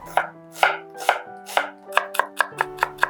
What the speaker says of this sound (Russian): Одну репчатую луковицу мелко нарезаю.